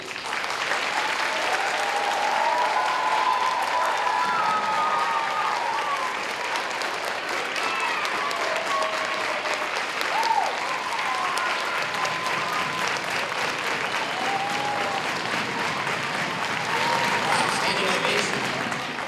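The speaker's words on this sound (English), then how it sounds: "Standing ovation." Audience at a school event giving a standing ovation: dense, sustained applause filling the room at steady strength for nearly twenty seconds, with faint cheers and voices mixed in.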